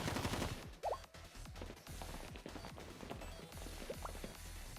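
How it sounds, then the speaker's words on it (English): Rapid gunfire in the Blue Archive video game, bursts of sharp shots with impacts and clatter over game background sound, a few short whistling tones mixed in. "We heard gunshots."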